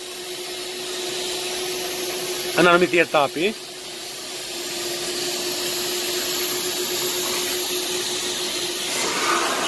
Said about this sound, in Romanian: înainte să folosim această metodă cu aspiratorul de injecție extracție